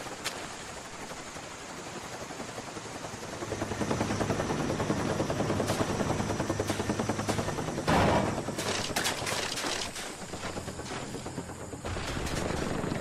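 A care package delivery helicopter arrives in a Black Ops video game, its rotor drone steady and loud, mixed with bursts of automatic gunfire and sharp shots throughout.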